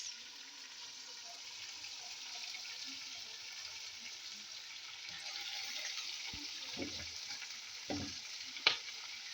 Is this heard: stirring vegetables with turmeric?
yes